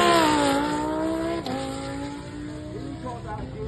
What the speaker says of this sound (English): Wheels on the twin turbo Lamborghini Huracan V10. This car is absolutely epic. Watch this launch.